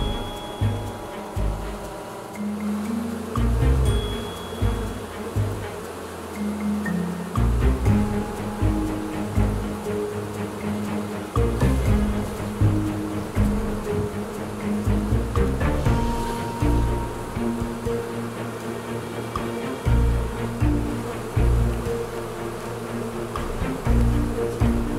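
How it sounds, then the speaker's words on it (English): A honey bee swarm buzzes in and around a safety cone, a steady droning hum close by for a long stretch with uneven swells and some background rumble. "The bees up here are fanning."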